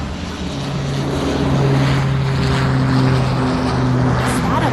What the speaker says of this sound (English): it's an airplane, flying high up in the sky